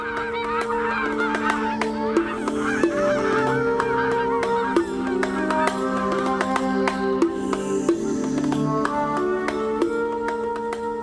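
Geese honk continuously and loudly for the whole stretch, a dense overlapping chorus of calls from a flock of wild fowl, with no voices.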